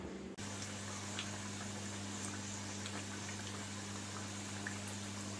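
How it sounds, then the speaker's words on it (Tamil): Chickpea vada fries in hot oil, a steady, soft bubbling sizzle that starts abruptly and holds evenly throughout, with small crackles and pops over a low hum. "இப்போ வடை நான் போட்டுட்ருக்கேன், நல்லா கிறிஸ்பியாக வருது."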